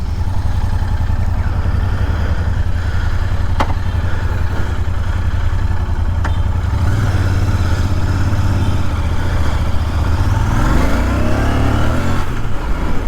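Royal Enfield GT 650 motorcycle, just converted to tubeless tyres, with its engine running loud and steady close by, then revving up with rising tones toward the end.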